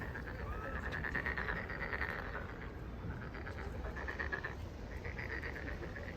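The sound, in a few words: frogs croaking near a puddle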